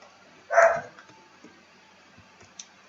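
A single short dog bark in the background, moderately loud and slightly distant, followed by quiet room tone with faint small clicks.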